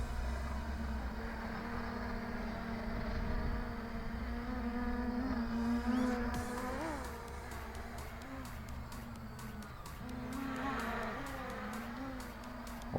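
An XK X350 Air Dancer drone in flight gives a steady, buzzing rotor whine that shifts pitch as it moves, loud and close for the whole stretch with no voice over it.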